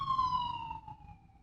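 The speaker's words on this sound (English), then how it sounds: "Sorry for the sirens." An emergency siren passes outside, a steady wailing tone that slowly drops in pitch as it moves away, heard faintly at a distance over low background rumble.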